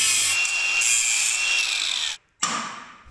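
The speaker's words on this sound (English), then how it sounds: "So we'll grind these off, see what we get." An angle grinder cuts through steel bolts in a loud, continuous high-pitched grind, briefly stopping and then starting again near the end.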